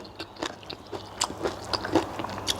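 Crisp crunchy bites and chewing of raw vegetables eaten with fermented rice-fish sauce, a series of close, sharp crunches spaced irregularly, with no talk.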